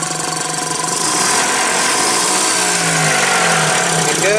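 A Nissan forklift engine idles steadily just after a no-start repair, a continuous loud mid-pitched running drone with a faint rising whine near the end and no talk.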